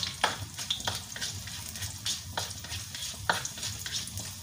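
Onion fries in a pan with star anise, the steady sizzle broken by several close scraping stirs of a utensil, with no talking.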